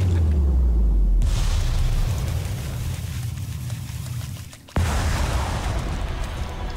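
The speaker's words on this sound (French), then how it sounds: "Explosion." An explosion in the video game Hollow Knight: Silksong comes as a deep rumbling boom that fades away, followed by a sudden cut and then a second burst of low rumble.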